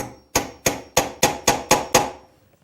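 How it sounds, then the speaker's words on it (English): A Lie Nielsen drawer lock chisel struck to cut the end of a strike mortise in wood: seven crisp, evenly spaced mallet taps, close and loud, with no talk. "we'll get ready to chisel. And what I'm going to do is do the end cuts first with the small 1/4-inch end"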